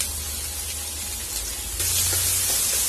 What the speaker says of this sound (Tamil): வெங்காயம் லேசா வதங்கணும், கண்ணாடி பதத்துக்கு வதங்கணும்.